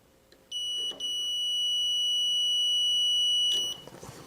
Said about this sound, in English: it's beeping because I have it on continuity